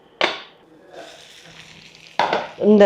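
Onions fry lightly in a pan with a faint sizzle between two sharp stirring scrapes, and a brief voice comes in right at the end.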